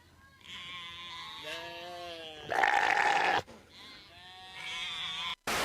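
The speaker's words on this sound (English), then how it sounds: "It's always the screaming goat that gets me." A goat bleats in wavering cries, breaks into a loud, harsh scream, then bleats again before an abrupt cut.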